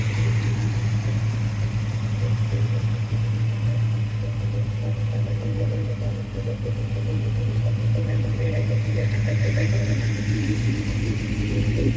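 A 1970 Chevelle SS convertible with an LS6 454 engine and M22 four-speed cruises down the road, its V8 a steady low rumble with wind and road noise, unbroken for the whole stretch.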